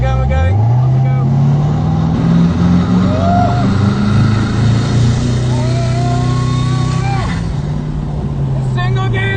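A Koenigsegg Regera, a single-gear hypercar, pulls away hard with a loud, steady engine roar and rising whine heard from inside the cabin, with people talking and exclaiming over it.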